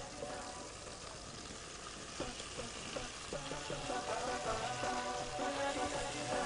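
Mozzarella-stuffed chicken breasts fry in a pan until golden, giving a soft, steady sizzle. Tonal background sounds run beneath it.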